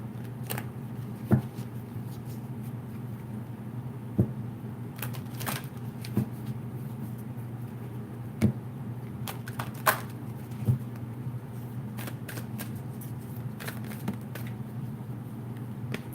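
A deck of oracle cards being shuffled by hand, with soft repeated riffling and sharper snaps at irregular intervals over a steady low hum, no talking.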